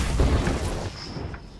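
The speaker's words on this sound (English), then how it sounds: "Being shot at." Gunfire in the Apex Legends battle royale game, smart bullets incoming: a cluster of dull, booming shots up close at the start, then scattered quieter bursts and impacts trailing off, with no talking.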